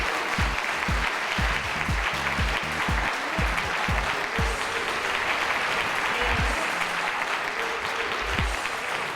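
A crowd at a community award ceremony claps for the award winners, a continuous wash of applause lasting several seconds, with voices and low thumps scattered underneath.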